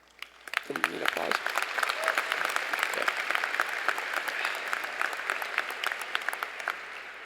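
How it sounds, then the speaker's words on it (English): Graduation audience at a high school ceremony bursts into sustained, dense applause that swells quickly and holds steady, many hands clapping together in a large hall. "Need applause."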